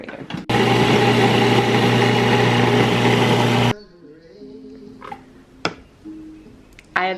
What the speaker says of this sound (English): I'm using the food processor here